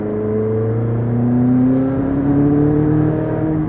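A McLaren sports car accelerates on the road, its engine note climbing steadily in pitch with a smooth, continuous drone heard from inside the cabin, loud and close without talk.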